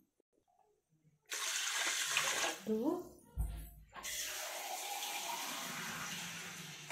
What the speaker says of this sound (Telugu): దీంతో 4 glasses వాటర్ యాడ్ చేసుకుంటున్నా